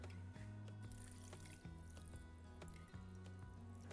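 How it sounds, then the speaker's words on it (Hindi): Water poured into a pot of Hyderabadi dum aloo being cooked in a pressure cooker, giving faint, low dripping and splashing that trickles unevenly under a steady kitchen background hum. "अब डाला पानी।"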